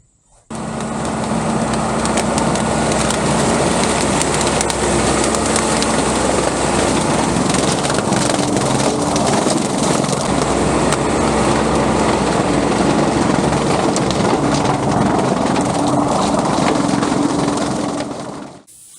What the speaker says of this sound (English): now we'll finish up the rest of this mowing here